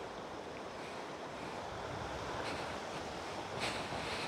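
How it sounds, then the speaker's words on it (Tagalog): River water rushing steadily near a mahogany campsite, a constant broad wash of flowing water at low level with slight wind buffeting, no talking. "Ito yung ilog oh."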